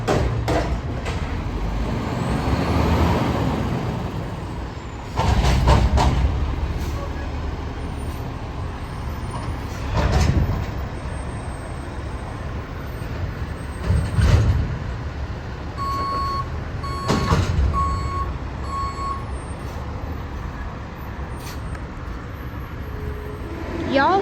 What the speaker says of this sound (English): Y'all hear how loud it is? It's unbelievably loud for Bridgeport. He's got the packer going.